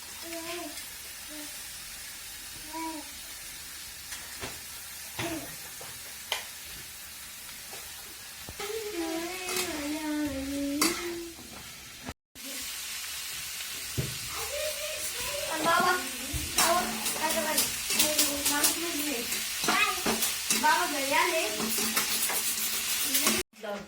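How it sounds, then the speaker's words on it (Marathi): Pumpkin fries with salt and soaked chana dal, a soft sizzle under frequent stirring scrapes and utensil knocks, with people talking over much of it. "आता त्याला मिठामध्ये परतून घ्यायचं"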